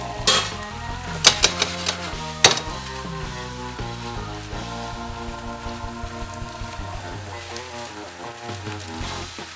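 Squid and vegetables stir-frying in a pan for spicy Korean squid with green onion just added, a steady sizzle with a few sharp scraping clanks early on, moderately loud and close with no talking.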